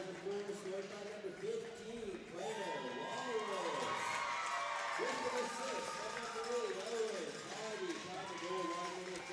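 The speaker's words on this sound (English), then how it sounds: "Great crowd here at the Mariners Center as well." Spectators at a youth U13 hockey final at the Mariners Center, East Hants versus Yarmouth, raise a loud, sustained crowd roar with shouting children's voices, steady throughout under busy arena noise.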